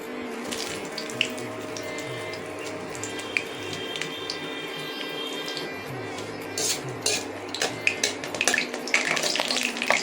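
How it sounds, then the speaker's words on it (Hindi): Bichhu ghas, stinging nettle, fries in plenty of oil in a kitchen with a soft steady sizzle, while utensils clatter and clink, and the scraping and knocking grow busier toward the end. "मैं इसको ज़्यादा तेल में बना रही हूँ आज"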